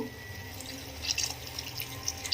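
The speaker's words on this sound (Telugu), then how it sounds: "ఇలా ఆయిల్ సెపరేట్ అయ్యేటప్పుడు కొంచెం వాటర్ని యాడ్ చేస్తున్నాను." Water is poured into a simmering egg and dry fish curry in a pan: a soft, steady splashing trickle that is fairly faint and lasts the whole moment, with no talking.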